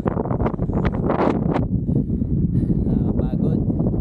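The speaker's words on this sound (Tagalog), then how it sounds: "Lakas ng hangin! Grabe!" Strong gusty wind buffets the microphone in loud, roaring bursts at a mountain campsite on Mt. Talamitam, with a voice speaking briefly underneath.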